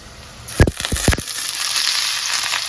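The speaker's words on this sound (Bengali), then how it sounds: "তারপরে এটা ভালো করে ভেজে নেব" Young jackfruit and chopped onion hit hot oil, giving a few sharp crackling bursts followed by a steady, close hiss of frying.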